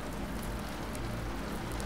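Rain patters through a night in London, a dense, even hiss of drops that stays constant and fairly soft throughout, with no voices.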